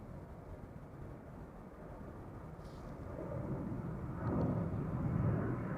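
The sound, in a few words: airliner taking off from Amsterdam Schiphol Airport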